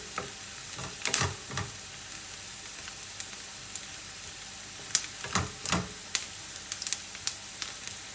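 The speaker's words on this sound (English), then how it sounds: "So we have to fry this quite well." Anglo-Indian chicken curry fries in a pan, a quiet steady sizzle broken by scattered louder crackles and stirring scrapes, with no voices.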